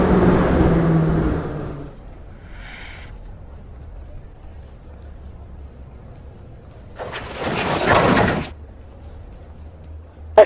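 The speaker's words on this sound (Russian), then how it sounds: "Осторожно, двери закрываются." Doors of a Moscow metro train type 81-717/714 closing at a station, a hiss and rumble of the doors sliding shut before a final thud, following a recorded announcement voice.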